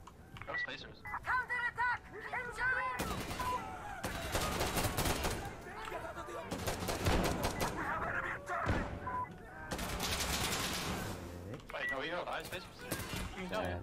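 Explosive weapon fire and blasts in the shooter game Insurgency Sandstorm, with loud bursts of shots and booms in repeated waves over about fourteen seconds, mixed with voices talking throughout.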